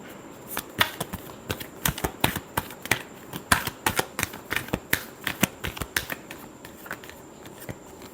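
Tarot cards shuffled by hand: a quick series of sharp, crisp slaps and riffles in an irregular rhythm, close and fairly clear, with no talk over them.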